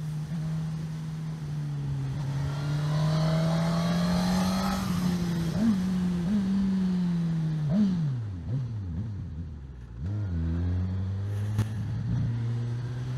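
A Suzuki Katana 1000 engine revs while being ridden, holding a steady drone before rising and falling through several sharp throttle blips and gear changes, heard close from the rider's position.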